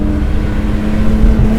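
An 800 hp BMW M Coupe engine roars loud and close with a steady, rough low drone that swells slightly toward the end, no voices over it.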